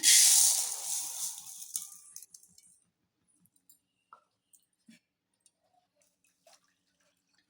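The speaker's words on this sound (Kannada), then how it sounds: "ಸಕ್ಕರೆ ಕರಗಲಿಕ್ಕೆ ಸ್ವಲ್ಪ ಸ್ವಲ್ಪ ನೀರು ಹಾಕ್ತಾಯಿದ್ದೀನಿ ನಾನು" Water poured a little at a time onto half a kilo of sugar in a kadai for coconut mithai: a loud rushing hiss for about two seconds that fades, followed by scattered faint drips and small clicks.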